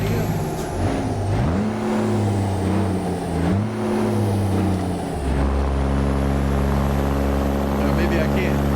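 A Kenworth W900 truck engine hauling a 66,000 lb excavator revs up in two rising surges after downshifts, then settles into a steady, loud drone, with a voice speaking over it.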